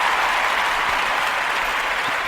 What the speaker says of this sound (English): I want y'all to stand up, clap your hands.